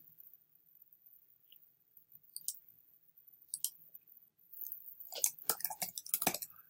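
Computer mouse clicks, faint and sparse at first, then a quick cluster of sharper clicks near the end, in a quiet room.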